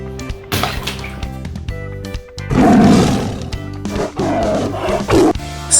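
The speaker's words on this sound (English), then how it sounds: "Tiger." A tiger roars loudly and up close, in long rumbling bursts set against background music, with a pause before a second, sustained roar.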